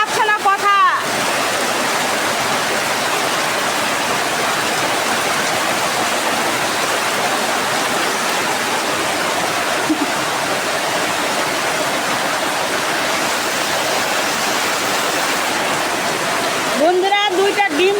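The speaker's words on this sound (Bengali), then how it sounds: "এতটাই বৃষ্টি কিচ্ছু বোঝা যাচ্ছে না কথা" Heavy rain pours down steadily over an outdoor cooking spot where a duck meat curry is on the fire, a dense continuous hiss with brief bursts of a voice at the start and end.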